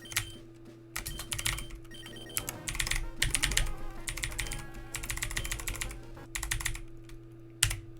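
Computer keyboard keys clatter in quick irregular bursts while someone plays a Pokemon game on keyboard, close and crisp over a steady electronic hum, with no talking.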